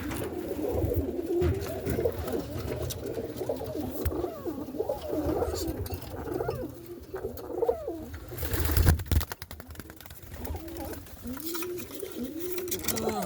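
Roller pigeons coo in a loft in the dark, a steady chorus of low rolling coos close to the listener with some rustling and a short loud clatter midway.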